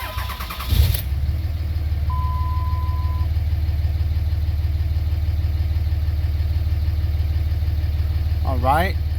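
A 2005 Dodge Ram 2500 pickup with a 5.9 liter inline-six Cummins turbo diesel cranks over and starts, then settles into a steady, loud, low diesel idle with a faint whine on top; someone speaks briefly near the end.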